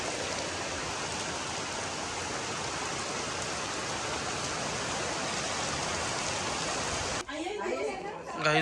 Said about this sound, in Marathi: गाईस पाऊस बघा किती आलाय